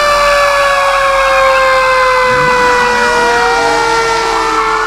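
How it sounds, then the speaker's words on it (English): A Russian fire truck siren blares loud and near as a steady, buzzy, harmonic-rich tone that bends slightly in pitch, with a low truck rumble underneath. "This is a Russian fire truck."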